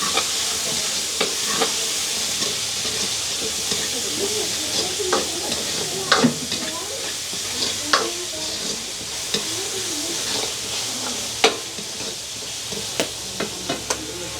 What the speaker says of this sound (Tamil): நாங்கள் செத்தல் மிளகாயை நல்லா சின்ன சின்னதாக வெட்டி வச்சுருக்கிறோம் அதையும் போடுவோம் நல்ல வடிவாக அப்படியே பிரட்டி விடுவோம்